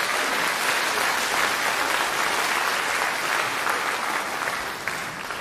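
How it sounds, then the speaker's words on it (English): An audience applauds at a middle school orchestra's Christmas concert. The clapping is dense and steady, a loud continuous wash of many hands that tapers slightly at the end. "Let's give all of them a round of applause."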